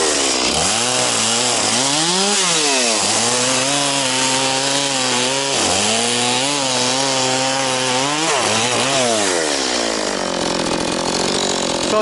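A chainsaw cutting firewood in the taiga, loud and close, its engine pitch rising and falling through repeated revving cuts before settling to an idle near the end.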